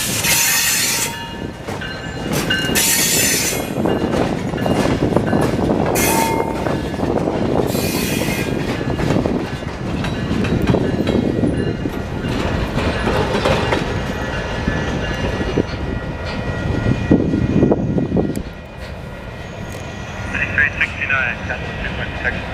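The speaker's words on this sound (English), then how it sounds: "Here is CP VG42, which is a local switching job that works within Golden." CP VG42, a local switching freight train, rolls past near Golden, British Columbia, a loud continuous rumble of wheels and railcars with squealing bursts, and a voice narrating over it.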